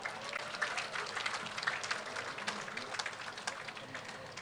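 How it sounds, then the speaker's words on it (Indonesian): An audience at the IKN flag ceremony applauds the best-dressed winners, a steady patter of many hands clapping at moderate distance that holds without pause throughout. "Kita sambut dengan tepuk tangan yang meriah"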